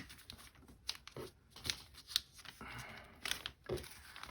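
Scissors cut through magazine paper in quiet, crisp snips mixed with soft rustling and crinkling of the pages.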